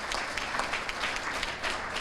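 An awards-event audience applauds, a steady, moderately loud wash of clapping lasting a couple of seconds with no speech on top.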